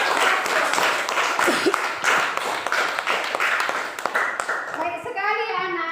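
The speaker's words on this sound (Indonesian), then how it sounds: "tepuk tangan untuk kelompok 1." A class of schoolchildren claps for a presenting group, scattered clapping mixed with children's chatter and an adult voice, ending with someone speaking over the noise.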